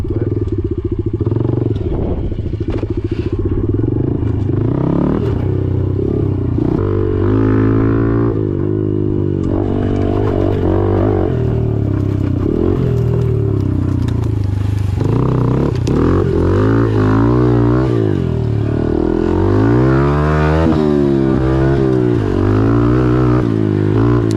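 A Honda CRF110 dirt bike ridden up close, its small engine buzzing steadily with repeated revs rising and falling in pitch, loud and continuous throughout.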